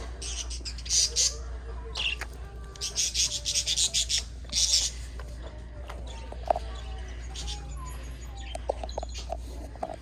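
Birds squawk and cluck outdoors in a few loud bursts during the first five seconds, then quieter scattered calls follow, with a steady low rumble underneath while someone walks a German Shorthaired Pointer nearby.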